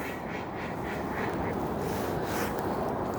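Ducks quack in a steady, noisy outdoor scene at Dartmouth Cove, Nova Scotia, in February, the calls blending into a constant wash of background sound.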